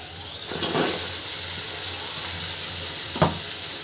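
Eggs coated in ginger, garlic, cumin paste, turmeric and chili are dropped into well-cooked spiced masala, giving a steady hissing sizzle with a couple of sharp clinks in the pan; no talking.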